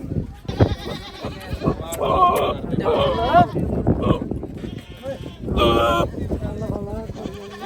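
Several Barbari and Beetal goats bleat repeatedly, some close and loud, while people talk over and between the calls at a busy outdoor goat market in Dhanaula.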